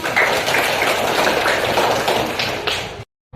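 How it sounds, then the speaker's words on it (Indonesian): A fifth-grade class of students in a classroom clapping together, a fast dense patter of many hands, loud and close, stopping abruptly near the end. "Oke, tepuk tangan."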